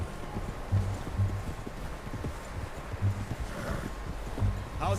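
Horse hooves clip-clopping in the video game Red Dead Redemption 2, a steady rhythmic series of moderately close hoofbeats over soft wind and rustling ambience.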